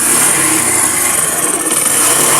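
A loud, steady car engine with an unusual internal noise runs close by with a dense, even roar and no pauses.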